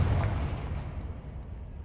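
A Confringo blasting curse explodes in Hogwarts Legacy, giving a short burst of boom that fades quickly into a low, decaying rumble.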